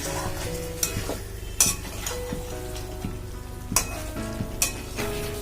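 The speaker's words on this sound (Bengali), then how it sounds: "দেখো এবার আবার আমরা কিন্তু সময় নিয়ে মাংসটাকে কষাবো।" Chicken curry meat is stir-fried in a pan after hot water is added, giving a continuous wet sizzle broken by regular scraping strokes and spoon knocks.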